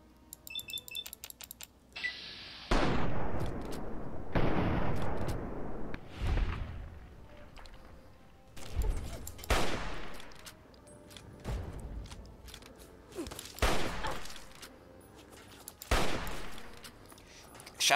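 Gunfire in Fallout 3: a series of loud, sharp shots separated by short pauses, each with a booming tail, with a clicky electronic burst at the start.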